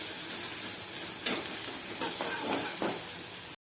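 Chopped onion sizzles in a hot pan with a dense, even hiss, broken by a few soft stirring scrapes.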